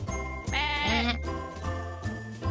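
Sheep bleating in a children's farm counting game, one wavering bleat rising loud over a steady backing tune and light jingling, close and clear.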